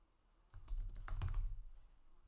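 Quick bursts of keystrokes on a computer keyboard, a short run of close clicks and taps lasting about a second before fading, with no voices.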